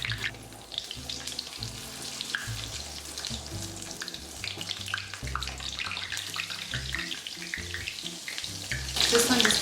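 Pieces of food frying in hot oil in a pan, a dense continuous sizzle and crackle with bursts of popping, growing louder and brighter toward the end.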